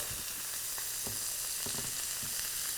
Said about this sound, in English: The pork chops have been searing on one side for about 4 to 5 minutes.